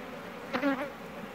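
Honey bees buzz at a beehive: a single brief, fairly close buzz swells and fades over a quiet background.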